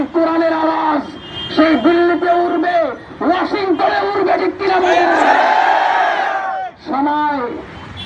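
Large crowd chanting a takbir in unison with a leader, loud call-and-response shouts rising and falling in rhythmic phrases, a swelling roar near the end.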